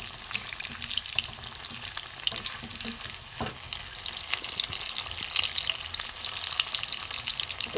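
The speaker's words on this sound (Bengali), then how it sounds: "একটু লাল করে ভাজবো, আমি তুলে নেবো।" Pieces of bata fish frying in hot oil give a steady, dense crackling sizzle that carries on without a break from start to finish, close and fairly loud, with no talk over it.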